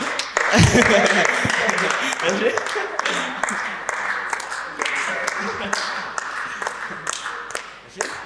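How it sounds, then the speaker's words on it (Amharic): Audience applause at a church event, a prize-giving at an Ethiopian church gathering, sustained dense clapping from a crowd that swells early and then holds steady for several seconds, with voices mixed in. "አጨብጭቡ።"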